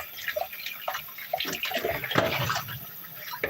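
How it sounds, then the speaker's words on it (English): A hand is rinsed under a running kitchen tap, with a steady splashing water stream close to the mic for a few seconds and no voices. "Rinse my hand off."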